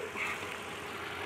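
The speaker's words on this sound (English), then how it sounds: "So I guess we're going to have to leave the engine running." A new pickup truck engine idles at night, giving a faint, steady, even rumble with no voices.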